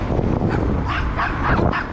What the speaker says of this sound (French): Ouais, les chiens.